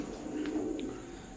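A pair of Teddy 128 pigeons with an imported bloodline coo softly in a low, steady murmur, close and continuous, with a couple of faint higher chirps above it.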